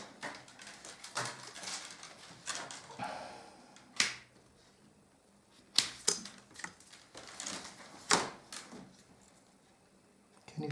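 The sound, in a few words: shears cutting willow rods for basket border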